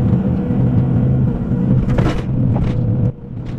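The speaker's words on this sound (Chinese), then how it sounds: "然后再用挖斗给它抹平" Hydraulic excavator working a bucket over a sloped bank while digging a pond in a paddy field, a steady loud diesel engine rumble throughout with brief scraping bursts near the end, no talk.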